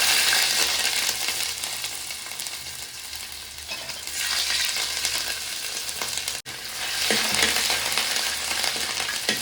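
Crushed ginger and mustard seeds frying in hot oil in a pan, a steady loud sizzle with brief stirring and crackling bursts running throughout, no voices.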